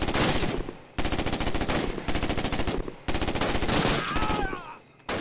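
Sustained automatic gunfire from the World War II shooter Call of Duty: United Offensive, rapid loud bursts of machine-gun fire that repeatedly cut off and restart, with brief gaps between volleys and some faint background game noise.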